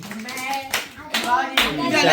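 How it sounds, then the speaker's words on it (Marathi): Several people clap in short bursts during a family New Year gathering and home game, with children and adults talking over the applause. "टाळ्या वाजवा रे."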